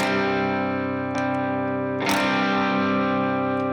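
Sustained electric guitar chord through an overdrive pedal, ringing out loudly, with a couple of sharp pick attacks restriking it.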